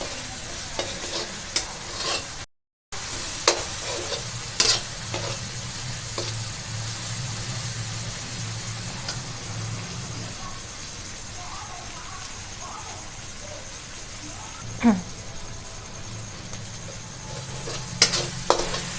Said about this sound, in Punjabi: ਅਸੀਂ ਇਹਨੂੰ ਤਦ ਤੱਕ ਭੁੰਨਣਾ ਹੈ ਜਦੋਂ ਤੱਕ ਇਹਦੇ ਵਿੱਚ ਜਿਹੜਾ ਅਸੀਂ ਪਾਣੀ ਪਾਇਆ ਉਹ ਨਹੀਂ ਸੁੱਕਦਾ